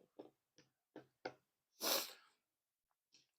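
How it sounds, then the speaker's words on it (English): A run of short nasal sniffs, then a louder, breathy snort-like burst, and a faint final sniff. Close by, with no talking. "apologies for the sniffles"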